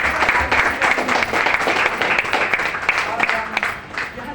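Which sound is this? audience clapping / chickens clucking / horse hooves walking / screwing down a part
audience clapping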